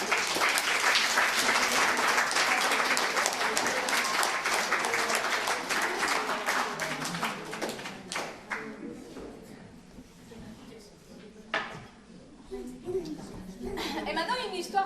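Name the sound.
audience applause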